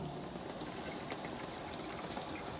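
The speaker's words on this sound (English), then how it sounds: "is water supposed to be coming out from underneath this area? It's kind of pouring out right there." Water from a running shower in a Nucamp TAB 400 camper bathroom pours and splashes out in a constant, dense rush. The sound stays even and close, with no voices.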